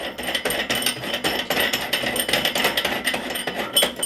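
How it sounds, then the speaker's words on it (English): A nut is unscrewed on a light fixture holding a lens cover over a bulb with a broken base, giving steady close metallic scraping and clicking for a few seconds, with no talking. "So we're just going to unscrew this nut right here."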